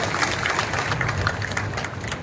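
Audience clapping at a housing allotment distribution event, a steady wash of applause from a crowd, fairly loud and continuous.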